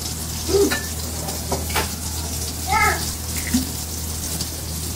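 Olive oil sizzles in a hot, steamy pan while salmon burgers are being cooked, giving a steady, close hiss that runs through the whole stretch. A few faint, brief voice-like sounds rise over it.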